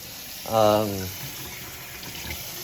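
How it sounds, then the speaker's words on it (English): Cold tap water pours briefly into a crockpot being filled for beef stew, a short close splash of about half a second that then fades into quiet room tone. "I'm just gonna add in water."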